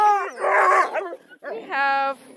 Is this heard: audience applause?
no